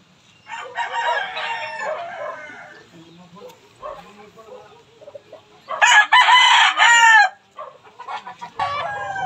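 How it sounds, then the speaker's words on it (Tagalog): Sweater Kelso gamefowl cluck in bursts and a rooster lets out a loud, nearby crow, with softer clucking and shuffling between the calls and a voice talking briefly. "Ayan, ganyan naman kung gaano kaganda yung kanawain natin."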